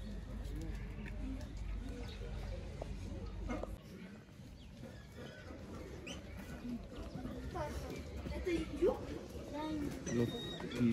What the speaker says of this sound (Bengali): এগুলো ছোট ছোট পাখি।